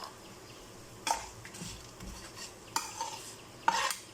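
Lemon rice being mixed in a pan off the heat, quiet background with a few distinct scraping and clinking strokes of a spoon against the metal, spaced about a second or more apart.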